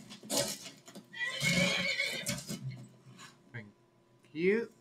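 A horse in the game Skyrim gives a whinnying neigh with hoof clip-clops, while a person talks over it, and a second short neigh follows at the end.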